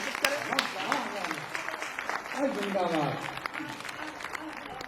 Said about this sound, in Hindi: बहुत जोरदार तालियों से शशि का आमंत्रित